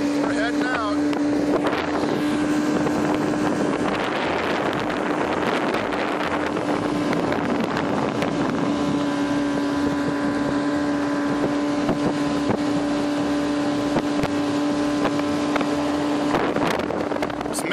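Motorboat running out across Charlotte Harbor near Hog Island in Florida, a loud steady engine drone with a sustained tonal hum, heavy wind buffeting the microphone throughout.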